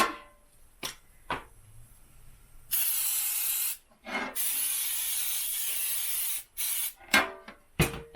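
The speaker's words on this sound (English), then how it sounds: "And there's my cooking spray." Cooking spray hisses from an aerosol can into an 8x8 baking pan in one long, steady burst, with a few short spritzes and handling clicks before and after, close by.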